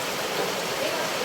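Heavy rain falls outside, a short burst of steady, broadband hiss at an even, moderate level.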